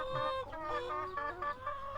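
Laying hens cluck loudly and close by in a steady, overlapping chorus of rising and falling calls, with no voices.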